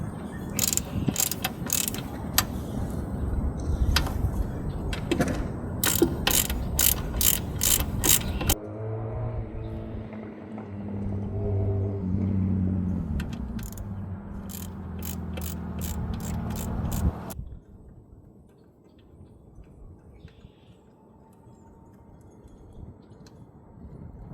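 A ratchet wrench loosens the drain bolts on the lower unit of a 2020 Mercury Verado outboard, giving bursts of rapid close clicking, then a stretch of slower mechanical ratcheting, and finally quieter handling sounds.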